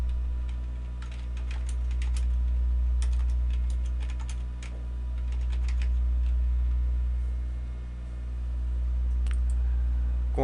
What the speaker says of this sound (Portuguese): e inicio a digitação